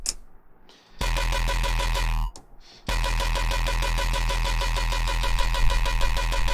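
MicroFreak synthesizer played with its drive distortion engaged, a loud, dense, gritty buzzing tone that cuts in after a second, drops out briefly, then returns and sustains steadily to the end, with no talking.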